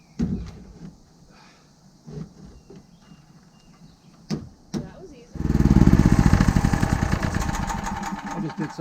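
A tractor engine starts at a barn build site and runs loudly with a steady rhythmic chug, after several seconds of quiet knocks and brief voices.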